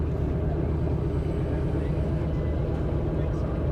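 A steady, loud engine drone from an SBD-5 Dauntless WWII dive bomber passing at an air show, constant and rumbling throughout.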